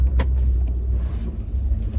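A car pulling away outside, a steady low engine rumble with faint road noise that holds at moderate distance throughout.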